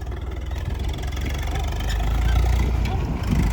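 A tractor engine running on a site where soil and rubble are being moved for road raising, a close, continuous low rumble with a slight swell midway.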